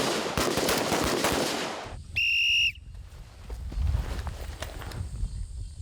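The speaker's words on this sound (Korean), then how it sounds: "다양한 자세, 다양한 지형 지물을 고려한 사격 훈련" Rifle gunfire at a military shooting training range sounds as a rapid series of sharp, loud cracks, then a brief whistle tone and softer, scattered shots and movement noise outdoors.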